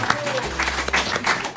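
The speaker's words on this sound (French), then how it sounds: "Alors vous pouvez encore vous applaudir s'il vous plaît." Brief applause from a live studio audience at a French comedy show, quick patter of clapping under a voice speaking over it.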